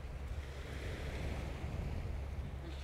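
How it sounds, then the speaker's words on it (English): Strong wind buffeting a microphone on an east coast beach by the sea wall at Immingham, a steady low roar with breaking surf underneath, constant throughout with no voices. "It's just very windy"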